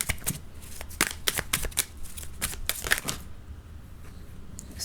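Tarot cards being shuffled in quick riffled bursts, crisp papery flutters close by for about three seconds, then near quiet with a faint soft tap.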